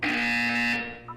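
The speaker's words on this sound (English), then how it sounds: "When you hear the buzzer, look down at the floor." A loud, steady electronic buzzer from the video game Portal 2 drones for about a second, then cuts off with a brief fading tail.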